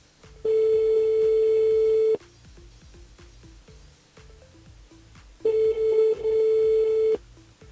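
A telephone rings during a radio call-in show in two long, steady electronic tones separated by a pause, loud and close, with no talk.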